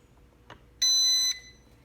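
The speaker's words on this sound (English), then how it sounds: "And you should hear a beep and see a couple of blinks." Propel Navigator Morph quadcopter drone sounding a single sharp electronic beep, about half a second long, after gyro calibration, loud and close against a quiet background.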